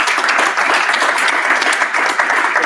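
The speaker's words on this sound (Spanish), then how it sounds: "me gustaría pedir un fuerte aplauso al resto de organizadores" Audience applause for the organizers at a PyData Madrid meetup held at Repsol, a dense, steady burst of many hands clapping close by, sustained evenly for the whole stretch with no talk over it.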